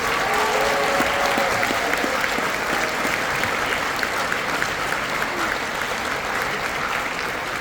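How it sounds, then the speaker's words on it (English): A concert hall audience at a school honor band concert gives a guest conductor a sustained round of applause, a loud, even wall of many hands clapping from start to finish, with faint crowd murmur underneath. "one more round of applause for our fantastic guest conductor tonight"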